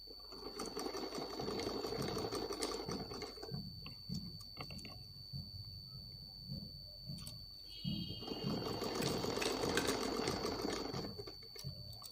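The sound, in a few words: sewing machine stitching a frock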